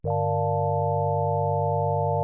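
A steady wavetable synthesizer tone from Arturia Pigments holds one sustained pitch with a bright, slightly harsh buzz, constant in loudness for about two seconds before cutting off.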